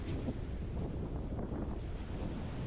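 Wind blows steadily across the microphone on a sandy beach in Crete in April, a constant rough buffeting roar with no pauses and no voices.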